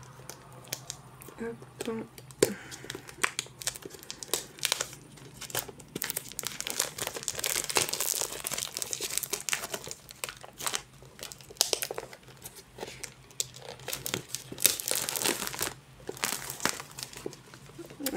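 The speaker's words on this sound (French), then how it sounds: "il est emballé dans du plastique. On va essayer de l'ouvrir." Plastic wrapping crinkles and tears off a colorful boxed item being unboxed, with close, irregular rustling bursts that swell and fade across the stretch while a soft voice speaks now and then.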